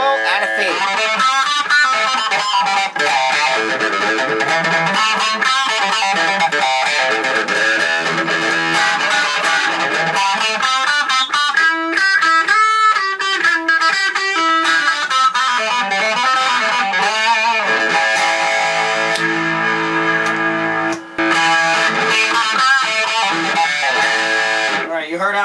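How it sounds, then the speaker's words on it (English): Charvel Green Meanie electric guitar, custom modded, played through crunch distortion with both pickups in parallel: a continuous, loud, saturated riff with sustained chords and single-note runs, no talk over it. "you heard how it sounds with some crunch."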